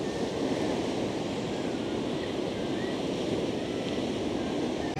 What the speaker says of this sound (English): watching the waves coming in, crashing against the shoreline